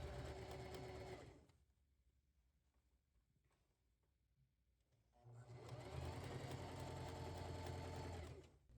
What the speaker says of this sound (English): At this point, I find pinning while sewing very helpful